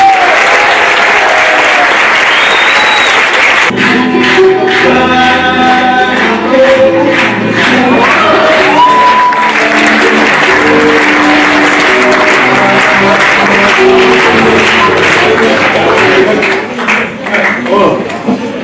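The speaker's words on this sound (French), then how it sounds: "je vous demande de les applaudir bien fort" Audience applause for the actors of a theatre troupe, a steady dense wash of clapping with music and voices layered over it, filling the whole stretch before tapering near the end.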